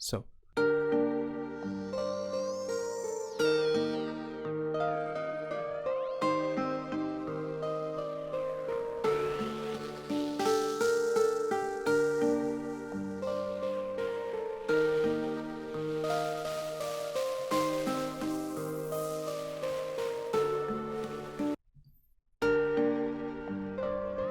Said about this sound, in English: It's a very simple effect. It adds some noise, some distortion.